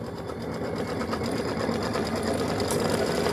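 A machine stitching half square triangles for a quilt flag house block, running as a continuous fast, even mechanical hum and rattle, close and steady with no pauses.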